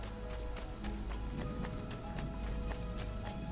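Steady clip-clop of a horse's hooves at a quick gait in Assassin's Creed II, evenly spaced beats over a continuous low rumble of game ambience, with no one talking.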